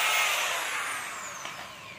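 A cordless hammer drill with a 13 mm chuck spins down from a loud high whine, the pitch sliding gradually lower as the motor coasts, heard alone and close.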